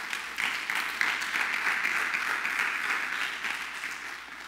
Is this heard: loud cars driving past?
no